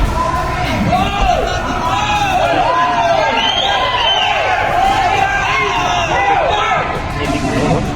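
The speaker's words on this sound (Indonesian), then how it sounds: "Terdengar teriakan simpatisannya ke arah petugas." Supporters shout and cry out at officers during an arrest of a regional governor, a dense crowd roaring continuously at close range with overlapping raised voices throughout.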